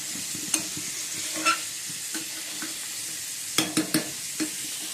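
Beans and carrots fry in a pan with a steady soft sizzle, broken by occasional scrapes and clinks of a stirring utensil, close by and moderately loud with no talking.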